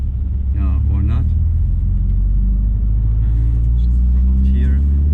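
Stage 3 tuned Subaru engine pulling in gear on a road, a loud low rumble and drone that holds steady throughout, with people talking over it inside the car.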